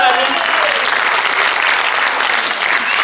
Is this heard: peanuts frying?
no